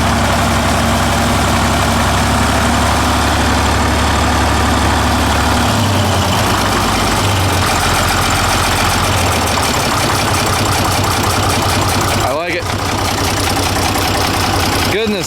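An old tractor engine idles loud and close while warming up, a steady heavy low rumble with a faintly knocking, slightly loose beat running unbroken throughout.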